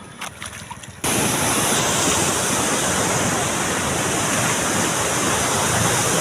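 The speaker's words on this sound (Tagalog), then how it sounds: "napakalakas po ng baha" Strong floodwater rushes hard past a bridge, a loud, constant roar of churning water that cuts in abruptly after a second of quieter background and then holds steady and close.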